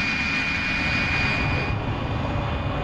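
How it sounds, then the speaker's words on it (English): The jet engine of a G91 in Microsoft Flight Simulator roars loud and steady, a broad continuous rushing drone with a piercing high whine running throughout, close by with no talking. "Now, this is a loud airplane."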